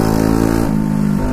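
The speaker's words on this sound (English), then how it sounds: "A straight pipe moped, four stroke." A four-stroke moped with a snapped-off exhaust running straight-piped blats loudly and close, its engine note stepping up in pitch as it revs, with no voice over it.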